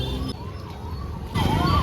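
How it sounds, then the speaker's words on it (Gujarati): A 112 emergency vehicle siren wails in rising and falling sweeps through heavy traffic at a Janmashtami fair in Godhra, swelling louder near the end amid street noise. "સામે જે સાયરન વાગે છે ને એ 108 નથી, 112 છે"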